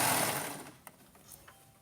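Sewing machine stitching two fabric edges together for a hidden-zipper infinity scarf, a loud whirring run at the start that fades out, followed by a few light clicks and handling sounds.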